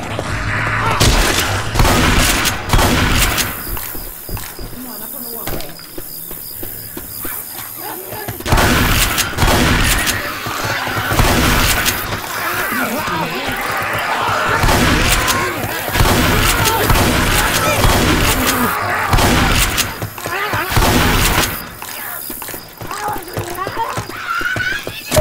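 Left 4 Dead 2 gameplay on the Dark Carnival highway, with repeated bursts of gunfire and booming shots mixed into a dense, loud game soundscape while players talk over the action.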